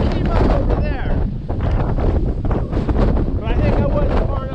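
Strong gusty wind buffets the microphone with loud low rumbling, with voices faintly audible underneath.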